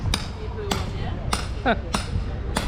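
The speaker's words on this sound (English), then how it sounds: "We got a guy hammering over here." Hammer blows ring out at a building site near a town square in Poznan, five sharp strikes spaced about half a second apart against steady outdoor background noise, with a brief voice between them.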